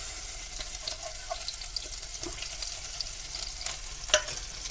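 Onion being added to hot oil with crackling cumin seeds, sizzling steadily up close with light stirring scrapes and a sharper clatter near the end.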